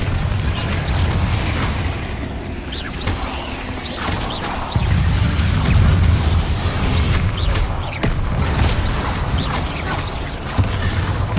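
Explosive Confringo spell blasts in the Hogwarts Legacy video game, a series of booming hits and crashing bursts amid steady combat noise, with a heavier low rumble swelling in the middle.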